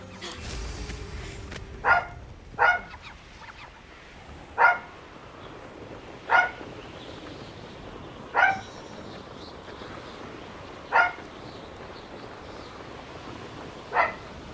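A dog barks in single sharp woofs, seven spaced barks over roughly fourteen seconds, fairly close and clear above a low steady background hum with no talking.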